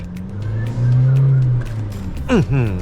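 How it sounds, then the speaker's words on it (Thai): A 2024 Isuzu D-Max X-Series two-door with the 1.9 diesel and manual gearbox pulls at full throttle, a loud steady engine drone rising in pitch, with a voice talking over the end. "เหยียบเต็มร้อยไป ผู้ชมนี่คือ ท็อปสปีดและเสียงดีเซลเนี่ย"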